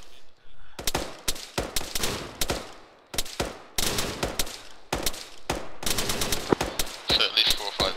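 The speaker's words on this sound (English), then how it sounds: "Just put some suppression fire on there" Machine guns lay down suppressive fire during a mechanised military training exercise, loud sharp bursts of rapid shots in irregular clusters, near and echoing, with a short pause between volleys.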